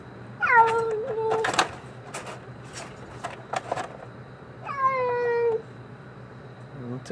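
Caged feral cat letting out two long drawn-out yowling meows, one early and one later, between rattling bangs and clatter, with a brief meow near the end.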